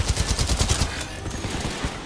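Shotgun fire in Titanfall 2, a quick run of loud, close repeated blasts in steady rhythm that thin out toward the end.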